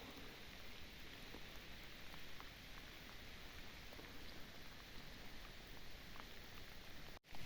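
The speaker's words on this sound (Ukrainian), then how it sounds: "треба швидше дощ, дощ посилюється" Steady rain falls in a forest, a soft dense patter of drops on leaves and ground that continues evenly throughout, faint and distant-sounding.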